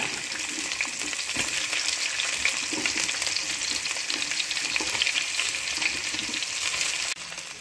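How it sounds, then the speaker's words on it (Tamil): Bitter gourd deep-frying in oil in a clay pot, a dense, continuous sizzle with light stirring, steady and close, with no talking. "இதை நல்லா எண்ணெயில் ஃப்ரை பண்ணிக்கோங்க. நல்லா டீப்பாக ஃப்ரை பண்ணிக்கோங்க."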